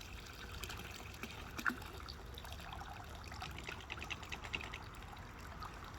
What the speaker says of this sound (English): pull him straight up out of the water. Let all the water come out of him.